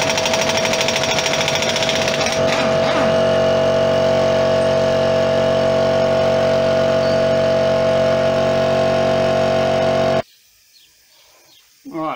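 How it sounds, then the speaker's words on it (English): An air impact gun hammers steadily on a peened-over 32mm rear hub nut of a 2006 Peugeot 206 1.4 HDi, a loud, continuous rattling buzz for about ten seconds before stopping abruptly, leaving near silence. "I don't know if the air gun will do it"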